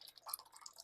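Water drips and trickles from rinsed poha being squeezed out by hand, a soft, faint patter of small droplets close by.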